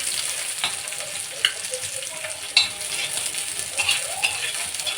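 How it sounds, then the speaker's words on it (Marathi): Onion roasts in a pan over a high flame for misal, a steady close sizzle broken by the scrape and clink of a spatula stirring against the metal. "मोठा गॅस करून छान त्याला भाजून घ्यायचं"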